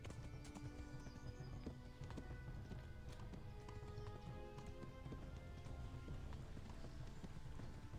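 A horse gallops in the video game Kingdom Come: Deliverance, its rapid clip-clop hoofbeats running steadily and loud throughout, with no talk over them.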